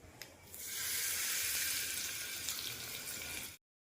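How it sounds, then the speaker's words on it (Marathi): Hot oil tempering with cumin and asafoetida poured over raw mango and onion chutney, a broad steady sizzle that bursts up, holds loud and close for about three seconds, then cuts off, with no voices. "हा तडका जो आहे हा पूर्ण आपल्याला चटणीवरती टाकून घ्यायचा आहे"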